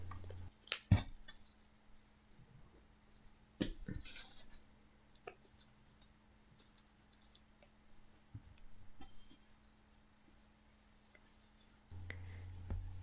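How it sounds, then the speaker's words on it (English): Scissors cut sock fabric to make doll tights, with a few sharp snips and soft, faint fabric rustles in a quiet room, the loudest snips near the start and again around four seconds. "cut the curve line for the feet as you see here."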